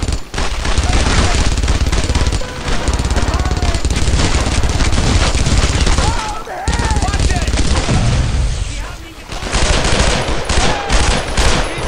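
Near-continuous machine-gun bursts and rifle shots crackle loudly through a World War II battle in a video game set at Purple Heart Lane, with a brief lull partway through, while voices shout beneath.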